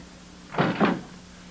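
A door closes in a quiet room, a soft double thud-and-latch that rises briefly and fades, heard alone over a faint steady hum.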